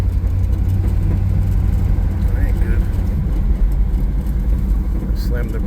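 A 1955 Chevrolet Bel Air two-door hardtop drives along, its engine and road noise a steady low rumble heard from inside the car, with a person talking over it throughout.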